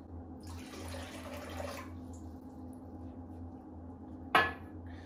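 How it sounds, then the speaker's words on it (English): A cup of water poured into a spare rib marinade of canola oil, a soft pouring trickle lasting about a second and a half in a quiet kitchen with a low hum, followed later by a sharp clink. "And then we're gonna go with 1 cup of water."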